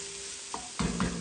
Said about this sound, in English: We're just going to stir this around for about a minute.